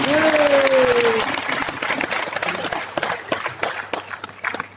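Audience applause at a diamond and safe shop event in Aligarh, a loud burst of clapping that tapers off over several seconds while a voice briefly speaks at the start.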